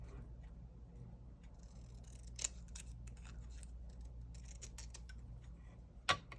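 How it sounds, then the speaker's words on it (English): Scissors cut through paper with a few quiet, intermittent snips, two of them sharper and louder, over faint ticking and a low steady background hum. "I'm gonna cut this down though."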